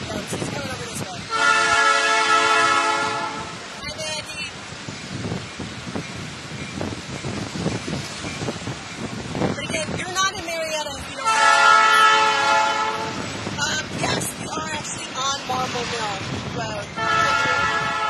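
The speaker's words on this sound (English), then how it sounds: "You're not in Marietta unless you hear trains." A train rumbles past in Marietta while its horn blasts in two long, loud blows separated by clattering wheels; a voice talks briefly beneath the noise.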